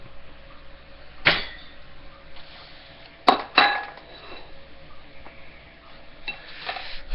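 A plate is taken out in a kitchen, with a few sharp clinks and clatters of crockery spaced apart against a quiet background, the two middle knocks close together.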